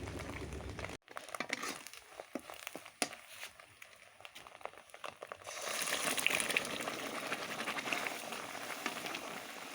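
Chana dal sizzles in a hot pan, a crackling, bubbling hiss with scattered pops and clicks at first, then a louder, steadier frying sizzle swelling in the second half, close and alone.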